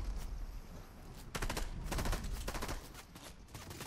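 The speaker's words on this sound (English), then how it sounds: "I'm getting shot from behind." Rapid automatic gunfire in the video game Fortnite, volleys of quick sharp shots in bursts that hit the player, loud and close, no talking.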